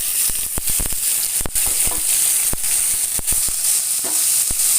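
Boneless chicken fries in oil in a pan, a loud continuous hiss with many crisp pops and clicks scattered throughout, close up and with no talking.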